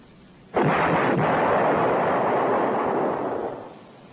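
Nike Hercules missile launch firing: a sudden loud blast erupts into a sustained, broad roaring rush that holds steady for about three seconds before gradually fading, with no voices.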